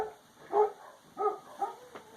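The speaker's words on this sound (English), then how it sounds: "sorry, my dogs are barking" Dogs bark close by in three short, sharp bursts spaced about half a second apart, with some yipping, in an otherwise quiet room.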